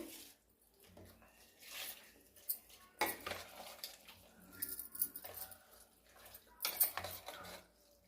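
Spoon clattering against a pot while mango pickle is mixed in groundnut oil, producing irregular scraping and clinking strokes at close range, fairly quiet.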